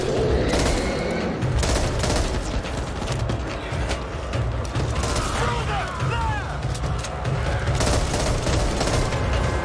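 Continuous gunfire crackles throughout a Back 4 Blood firefight, with bursts of shots, mechanical clatter and creaks layered densely and loudly, while a voice speaks briefly over the din.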